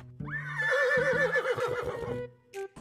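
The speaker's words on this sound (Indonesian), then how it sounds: "Ini ada kuda terbang teman-teman." A purple winged flying horse in Jurassic World Evolution 2 lets out a single loud, close whinny lasting about two seconds, followed by a brief short snort.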